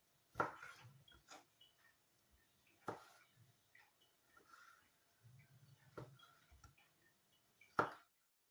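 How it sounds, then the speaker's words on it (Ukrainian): A knife cuts pickled cucumbers into thin strips on a board, giving a few sharp, isolated chopping knocks spaced a couple of seconds apart, with quiet, low handling noises between them. "Нарізаю огірки тонкими смужками."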